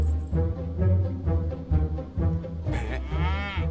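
Buffaloes lowing in a rural Indian setting, deep drawn-out moos running almost continuously, loud and close, with a few overlapping calls and no talk.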